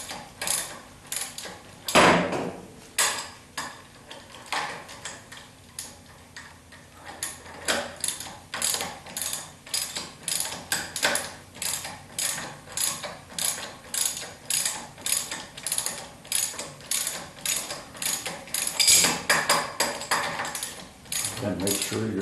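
Ratchet wrench clicking steadily while removing the rear shock on a 1976 Corvette, close and repetitive with a quick rhythmic ratcheting cadence, one brief louder clunk early on and no talking.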